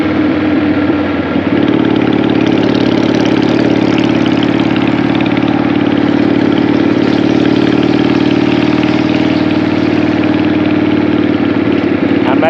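A 2002 Harley-Davidson Sportster motorcycle engine running at a steady loping idle, loud and close throughout, with a brief rough catch in the first couple of seconds before it settles into an even rumble.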